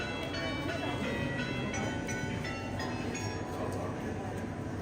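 Bells chime nine o'clock in central Madrid, with repeated ringing strikes and lingering tones that sound fairly faint over a busy street hum and crowd voices.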